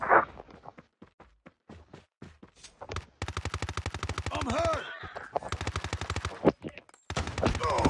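Rapid bursts of automatic gunfire in a CDM search-and-destroy match on the Hacienda map, loud and close, firing in long stuttering volleys with short gaps between them.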